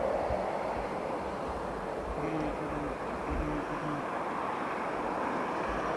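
Airbus A380 departing Heathrow Airport on runway 09R, a broad distant jet roar that holds steady as the plane climbs out, heard over outdoor ambience with a person talking quietly nearby.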